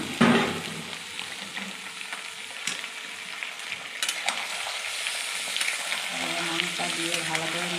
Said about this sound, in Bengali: এবার মাংসটা দিচ্ছি